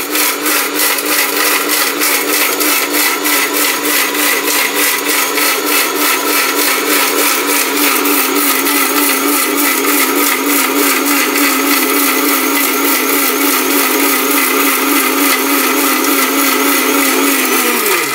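A Miyako high-power blender grinds turmeric to powder, running as a loud, steady motor whine with dense rhythmic grinding that holds for the whole stretch and drops in pitch as it winds down at the end.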